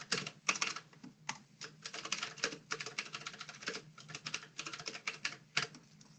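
Computer keyboard typing in bursts of quick, light key clicks with short pauses, close and fairly quiet, as a group name is entered in CRM software; no voices.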